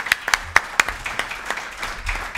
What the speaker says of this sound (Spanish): yo quiero dedicaros un aplauso por esa entrevista maravillosa que habéis tenido